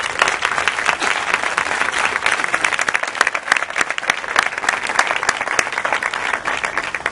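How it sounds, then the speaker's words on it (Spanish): Sustained applause from an audience at a PP Antequera electoral programme presentation in 2015, dense steady clapping filling the whole stretch at even loudness with no pause. "Un aplauso."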